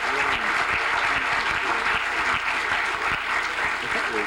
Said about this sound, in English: Let's give both of our panelists a big round of applause.